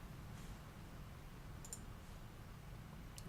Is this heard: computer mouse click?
yes